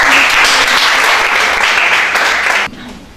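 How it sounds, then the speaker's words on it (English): Loud, dense applause from an audience at an awards ceremony, steady for over two and a half seconds before cutting off abruptly and leaving a faint room tail. "can we have a round of applause?"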